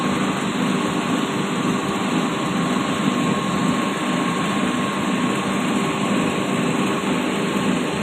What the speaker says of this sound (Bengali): মেশিন চলছে ত্রিপুরা কুমারঘাট কোল্ড স্টোর হিমঘর।